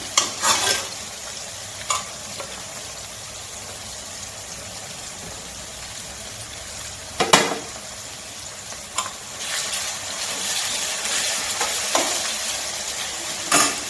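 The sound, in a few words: frying vegetable pieces in a pan for egg fried rice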